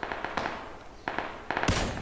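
Bursts of gunfire in PlayerUnknown's Battlegrounds, a sniper among the shooters, crack out in quick clusters of sharp shots with brief gaps between them.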